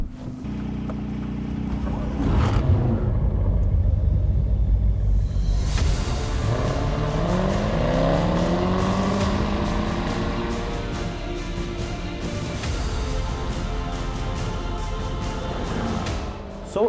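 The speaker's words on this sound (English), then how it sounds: "It takes the biggest engine in the JLR universe, the 5-litre supercharged V8" A 2018 Jaguar F-Type SVR with a 5-litre supercharged V8 roars past close by, engine revving hard through rising gear changes with loud exhaust and sustained rumble, then holding a steady drone.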